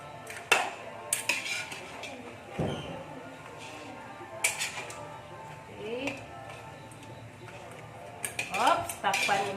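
Pots, pans and a lid clink and clatter in scattered bursts while vegetable fern with crab cooks, with some soft talk in between the knocks.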